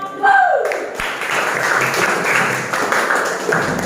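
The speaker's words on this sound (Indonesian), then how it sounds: "Tepuk tangan untuk kelompok." Classroom applause for a discussion group, a burst of many hands clapping that fills the room and continues steadily, following a brief voice at the start.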